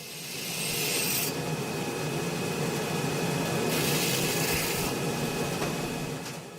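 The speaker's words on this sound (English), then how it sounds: "Next, the knife's spine is caressed by sandpaper." Sandpaper rubbed along the spine of a handmade Japanese kitchen knife, a steady close rasping scrape that swells slightly in strokes, with no voices.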